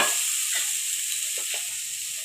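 Thinly sliced onions with salt frying in a pan, a soft continuous sizzle with a few faint stirring scrapes, close and even, no voices.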